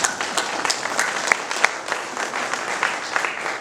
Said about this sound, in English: I think that award is deserving of applause